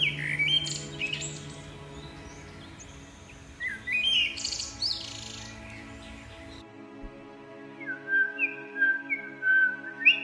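Baya weaver birds calling with bright whistled chirps and squawky tweets, in bursts separated by short pauses, close and clear.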